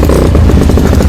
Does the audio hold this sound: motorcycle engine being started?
yes